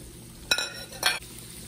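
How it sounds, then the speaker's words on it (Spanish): Ham, onion and garlic cooking over medium-low heat in a pan beside eggs for Dominican mangú, a quiet background sizzle with two brief scraping clinks of a utensil, close and unaccompanied by talk. "aquí mismo voy a cocinar el jamón, la cebolla y el ajo."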